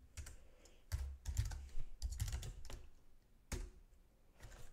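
A password is typed on a computer keyboard, bursts of crisp key clicks in quick irregular clusters separated by short pauses, close and quiet, with no talking.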